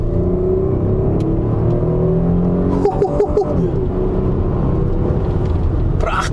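A 1997 Lancia Kappa Coupé with an Alfa-derived engine and a four-speed automatic runs steadily, giving a warm, continuous engine hum. Brief clicks and rustles are heard partway through.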